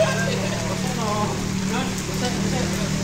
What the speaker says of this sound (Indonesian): Hujan terus melanda Blitar ini dari tadi siang sampai sore, masih awet hujannya.